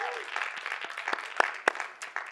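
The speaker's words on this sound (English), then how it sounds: "So well done, yeah, round of applause." A crowd at a COP28 talk applauds with scattered, uneven clapping, a few sharp individual claps standing out over a steady wash of hands.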